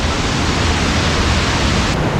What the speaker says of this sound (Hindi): और ये देख सकते हैं वाटरफॉल का पानी यहाँ पे आ रहा है।